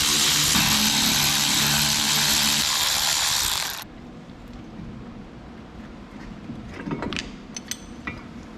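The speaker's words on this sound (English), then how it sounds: "with the 7mm Allen, put it in the carrier bolt. Make sure you're in there. Break it loose and run the bolt out." Ratcheting tool with a 7mm Allen bit breaking loose and backing out a brake carrier bolt on an MK3 with a 1.8T swap during a 312mm brake upgrade, a loud steady whir that cuts off, then faint clicks and clatter.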